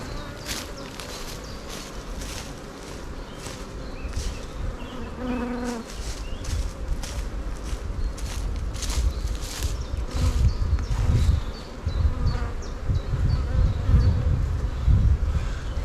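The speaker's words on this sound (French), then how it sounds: "Là je brosse les abeilles tout doucement" Dense, loud buzzing of many honeybees at an open hive during a spring inspection, with close brushing and rustling as a hand brush sweeps bees gently aside.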